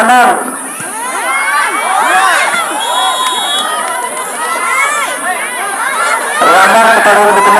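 Spectators at a village women's inter-RW grand football final in Cijeruk, RW 05 Hapci versus RW 10 Batara, cheer and shout continuously, with children's yells and excited chatter rising and falling in a dense, loud crowd roar.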